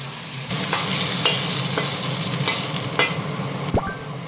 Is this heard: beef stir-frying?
yes